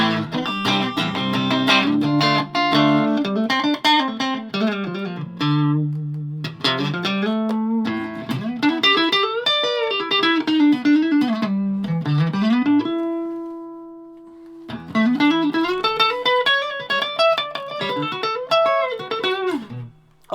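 Electric guitar played through a Roland Cube amplifier on a clean setting: melodic single-note phrases with string bends and slides, one sustained held note, and a brief pause, heard alone and up close.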